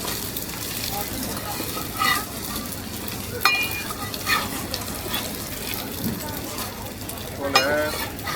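At a Beijing Hongmen market breakfast stall, pan-fried shui jian bao buns fry with a constant low sizzle, with a few sharp metallic clinks of utensils and quiet talk mixed into the bustle.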